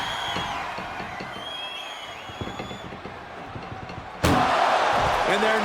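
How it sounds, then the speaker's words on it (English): In the WWE 2K25 video game, an ambulance door slams shut with one sharp, heavy bang. It cuts through an arena crowd and commentary, and the crowd noise swells after the impact. "Trying to at least slam one door shut."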